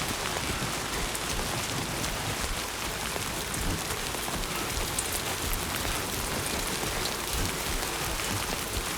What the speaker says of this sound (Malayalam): മഴേൻ്റെ എഫക്റ്റൊക്കെ നല്ല രസമുണ്ട്.